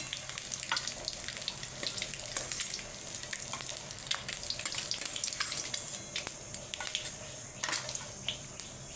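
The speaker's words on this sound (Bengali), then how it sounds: "আমি পরেরগুলো এইভাবে ভেজে নেব।" Eggs frying in hot oil in a pan: a close, continuous crackling sizzle with scattered sharp pops, heard alone without talk.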